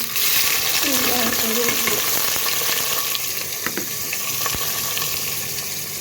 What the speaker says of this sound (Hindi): कि जैसे ही गर्म होता है ये प्याज डाल दिया मैंने।